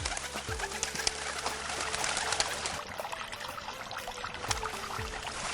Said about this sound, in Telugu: అది చూసిన తల్లి పక్షి తన బిడ్డను కాపాడమని అరుస్తూ ఉంటుంది